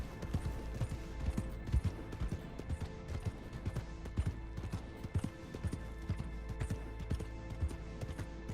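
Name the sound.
horse hooves clip-clop in video game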